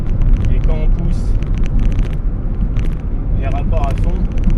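A German-made car built in Hungary, accelerating hard through its gears on the road, a loud rumbling engine drone with wind and road roar heard from inside the cabin while someone talks over it.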